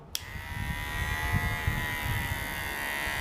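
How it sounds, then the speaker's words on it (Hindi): A Kemei KM 809A electric hair trimmer switches on with a click and runs with a steady, close buzzing hum, low rumbling handling noise underneath. "तो सबसे पहले मैं केमी का ऑन कर लेता हूं।"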